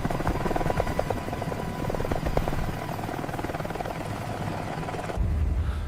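An army helicopter arrives with a loud, steady rotor thump and engine drone that holds throughout. The low rumble thickens near the end as it draws closer.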